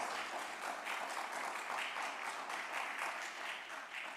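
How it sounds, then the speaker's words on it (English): A seated crowd at the official opening of a community centre gives a steady round of clapping, heard faintly and from a distance as a continuous patter with no talk over it. "And I think we should give that a round of applause."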